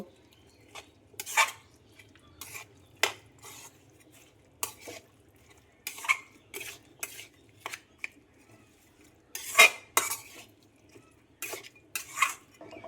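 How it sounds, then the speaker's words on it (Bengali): Pigeon meat being mixed with oil and ground spices in a metal bowl, a run of sharp, scattered clinks and scrapes of a utensil against the bowl, fairly close, with quiet gaps between them. "এবারে মাংস এবং মশলাগুলোকে খুব ভালোভাবে মিশিয়ে নেব।"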